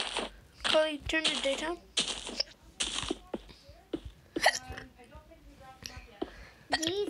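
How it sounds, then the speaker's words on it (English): A person hiccups several times in irregular bursts between stretches of talk, each hiccup short and close to the mic, with voices carrying on around them. "you have the hiccups"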